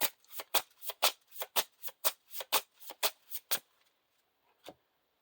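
Playing cards for The Lord of the Rings card game are shuffled in a rapid run of about a dozen crisp riffling snaps, followed by a pause and one final soft tap, close and alone without talk.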